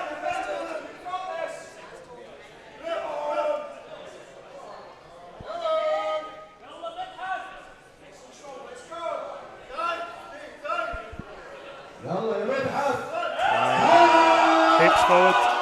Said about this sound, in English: Again, a lot of support from the crowd.